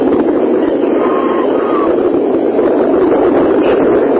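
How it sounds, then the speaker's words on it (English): Wind buffets a microphone at a cold night high school varsity football game, a loud, steady rumbling roar that fills the whole stretch, with faint voices underneath. "Windy, cold night."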